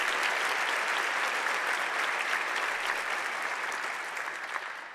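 Steady, dense applause from a large audience at a medical Match Day gathering, honoring the organizers, holding evenly for several seconds before tapering slightly at the end.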